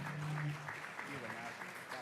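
Audience applause at a comedy show sounds as a sustained, fairly quiet patter of clapping with some voices mixed in underneath.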